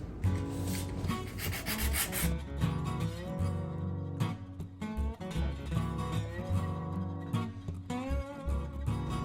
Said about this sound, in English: I'm going to kind of take a little sandpaper and distress this a bit.